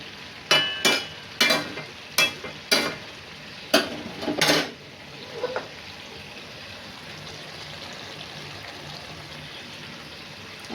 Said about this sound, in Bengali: ডিম ভুজিয়াটা ছেড়ে দিই।